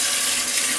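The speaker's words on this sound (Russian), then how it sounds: "Надо еще холодную воду залить." Cold water poured into a pot for okroshka, a Russian cold soup with green onion, ham, radish, cucumber and boiled eggs, giving a steady close rushing splash that runs unbroken throughout.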